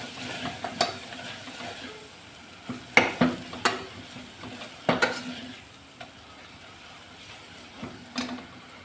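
Sambar powder and coriander powder get stirred into a chickpea gravy in a pot, with soft sizzling and a series of sharp spoon scrapes and clinks against the pan, close and without talk.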